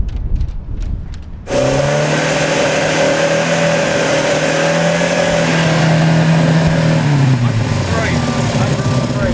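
Brief quiet chatter, then a classic Mini rally car engine bursts in loud and close at a pre-stage noise test, revving hard and holding high before the pitch drops away.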